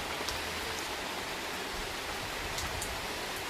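Rain driven by wind in Karaikudi, a constant broad hiss of falling water and gusts, steady and fairly close, with no one talking.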